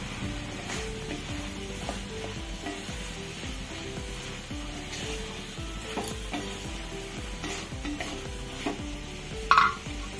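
Chana dal and spinach roast in a pan with a steady, moderate sizzle and faint scraping stirs throughout, ending in a brief louder clatter; no talking.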